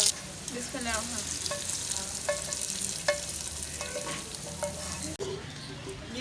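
Curry leaves hit hot oil for an arhar dal tadka and set off a busy crackling sizzle with sharp pops and stirring clatter. Someone speaks briefly near the start, and the sizzle cuts off suddenly near the end.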